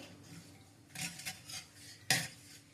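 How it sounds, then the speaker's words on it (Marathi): A spoon stirs jaggery into a kokum drink, giving a few soft scrapes and sharp metallic clinks against the vessel, quiet and close with no talking. "हे व्यवस्थित हलवून गूळ विरघळवून घ्यायचा आहे"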